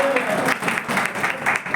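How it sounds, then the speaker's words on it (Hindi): A short burst of applause from a seated audience at a talk, brisk clapping that rises and falls over under two seconds. "चलिए ताली बजाइए।"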